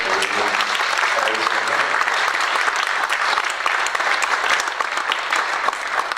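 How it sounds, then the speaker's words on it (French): Sustained applause from an audience at an event for a sheltered-work establishment (ESAT), loud and dense clapping filling the whole stretch, with a few voices mixed in underneath. "je souhaiterais qu'on les applaudisse, ils sont fait le déplacement"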